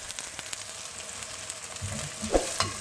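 Onions for sambar sizzle in a pan under steady stirring, a constant close frying hiss with soft spoon scrapes and a couple of sharper clinks near the end.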